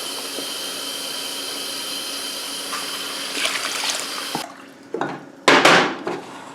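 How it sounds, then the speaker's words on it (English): Groundwater from a kitchen tap pours steadily into a soup pot of vegetables in a loud, even rush, then cuts off, leaving a few close metallic clanks and knocks from the pot. "I'm just going with some water right out of the tap"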